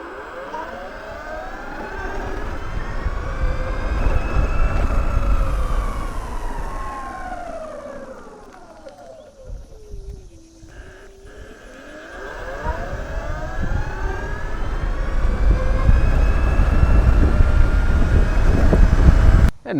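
A Sur Ron Luna Ludicrous R lightweight electric motorcycle ridden at full throttle, its motor whine rising and falling in pitch over loud rushing wind, with no talking.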